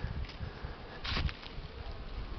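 Honeybees buzz at a hive entrance during a winter cleansing flight in February, a soft continuous hum with one bee passing close and louder partway through.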